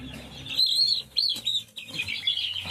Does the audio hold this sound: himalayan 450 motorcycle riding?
no